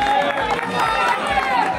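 A crowd at a celebration in Calais claps and cheers in a dense, continuous patter of hands for a couple of seconds, with faint voices mixed in.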